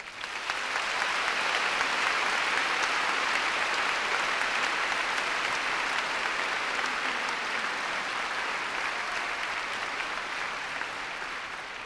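Sustained applause from a commencement audience welcoming the speaker, a dense, steady clapping crowd that holds evenly throughout and fades slightly toward the end.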